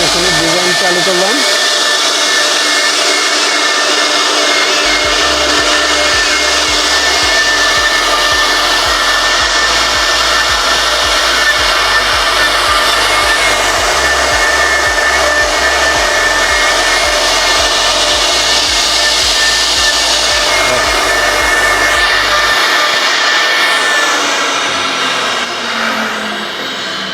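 A 4-axis CNC woodworking machine runs a carving design, a loud continuous high whine with a droning hum underneath, holding steady for nearly half a minute.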